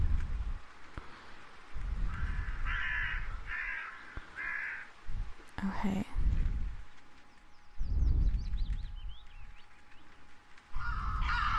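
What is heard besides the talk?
crows cawing in a video game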